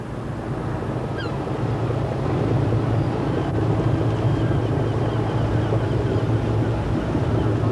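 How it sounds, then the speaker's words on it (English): Jersey RNLI lifeboat engines rumble steadily, a low, continuous throb that swells slightly and then holds at a constant level, with the wash of the sea behind it. "Under his command, engines roar into life, ropes are slipped, and it's full ahead"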